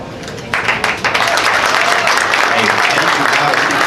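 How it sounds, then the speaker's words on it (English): Loud, dense applause from a crowd at a US Senate debate begins abruptly and continues steadily, with clapping filling the room throughout. "one more round of applause"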